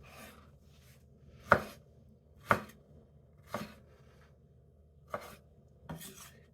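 A knife chops through mango on a cutting board, producing five distinct, fairly crisp thuds at irregular intervals, with near-silence between each cut.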